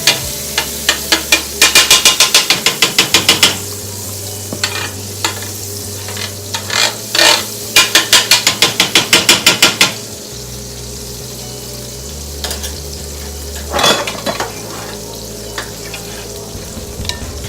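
Butter sizzles on a homemade hibachi griddle, a steady close frying hiss broken by bursts of rapid scraping and stirring strokes, loud and without any talking.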